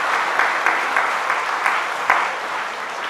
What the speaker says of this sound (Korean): 감사의 박수를 돌리시겠습니다.